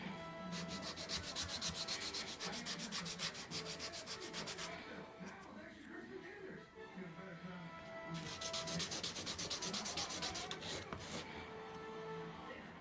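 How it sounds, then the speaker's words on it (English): Steady hand sanding on a small wooden piece, rounding its edges, a dense scratchy rasp in rapid strokes that eases off midway and then resumes strongly, close and continuous. "I'm just kind of sanding it a little bit round, all the way on 3 of the sides."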